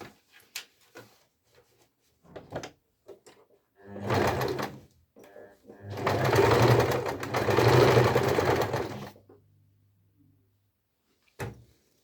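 A sewing machine topstitches a card wallet in two bursts, a short run and then a longer steady whirring stretch, with scattered clicks and handling knocks between them in a quiet room.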